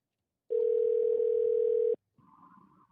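A telephone call tone sounds as a single steady, loud ringback beep lasting about a second and a half, then cuts off, followed by faint background noise.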